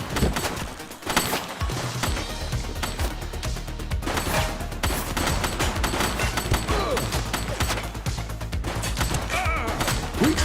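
Sustained, loud gunfire in the police video game The Precinct, with dense overlapping shots and crashing impacts forming a near-continuous barrage for the whole stretch.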